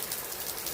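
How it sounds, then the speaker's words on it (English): Steady rain falls on a building with a metal roof, a dense, loud hiss of drumming drops close by with no voices. "Now we got rain."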